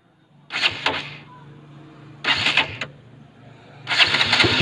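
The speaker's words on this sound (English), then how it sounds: "You have to press it for like 1 to 2 seconds and rev the bike to start this machine." A KTM Duke 200 motorcycle cranking and catching in three separate bursts, each a loud rough start-up rev, with a steady low idle hum running between them close by.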